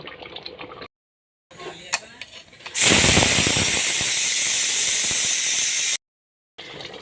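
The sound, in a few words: pressure cooker whistle releasing steam, cooking potatoes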